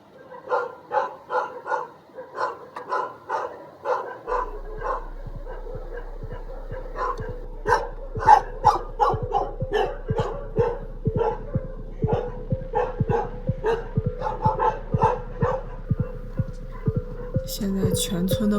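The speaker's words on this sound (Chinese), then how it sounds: "现在全村的狗子都开始狂吠" Several village dogs in eastern Tibet barking repeatedly at night, a steady, loud, rhythmic volley of barks and yips that continues throughout, with overlapping dogs near and farther away.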